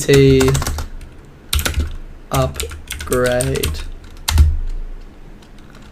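Rapid clacking of computer keys in short bursts, interrupted by a person speaking briefly.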